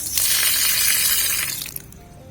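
Water rushes steadily from a faucet that has been fixed by tying a plastic bag tightly around the tap and pipe, a loud, even hiss that cuts off abruptly near the end.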